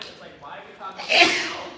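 A single close, forceful sneeze bursts out near the end, just after someone speaking.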